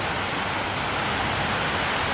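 Steady rain falling outdoors on an afternoon after a hot morning, a dense even hiss that stays level and close throughout with no voices.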